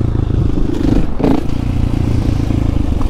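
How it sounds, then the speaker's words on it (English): A supermoto motorcycle being ridden, its engine a loud, close, continuous rough drone with rattling clatter and a brief scraping surge in the middle. "That's how you ride a supermoto."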